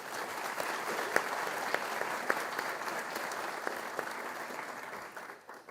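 An audience at a university graduation ceremony claps for a business law graduate. The applause is sustained and even, with a few sharper individual claps, and fades out at the end.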